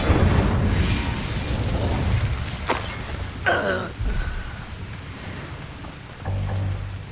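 The Incendio fire spell bursts out in the Hogwarts Legacy video game with a loud, roaring rush, a crackling whoosh partway through and a rumbling surge near the end.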